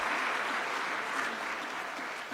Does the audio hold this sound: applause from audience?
yes